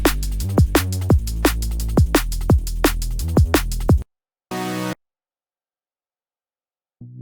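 Drum and bass beat built in FL Studio for a liquid track: fast, busy kicks, snares and hats over a deep bass, playing loudly for about four seconds, then cutting out to a brief held burst and silence.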